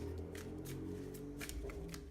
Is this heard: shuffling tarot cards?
yes